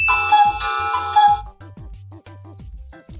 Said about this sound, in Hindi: सही पहचाना आपने, ये चिड़िया की आवाज है।